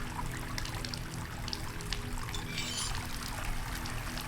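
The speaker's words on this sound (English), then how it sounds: "Maybe if I turn one of them off, maybe it's too much water flowing. See, now it is flowing less." Water flowing steadily in the video game Asylum, a continuous hissing pour or trickle with a constant low hum underneath, sounding close and fairly loud throughout with no speech.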